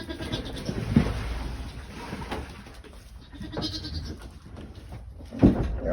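Several goats bleating in a crowded barn area during winter, a couple of louder calls standing out over rustling and shuffling of the herd, fairly close.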